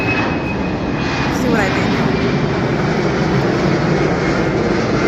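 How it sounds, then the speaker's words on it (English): A jet airliner climbs after takeoff close to a hotel near London ExCeL, its engine roar loud and steady throughout, with someone talking over it. "I'm guessing that plane just took off"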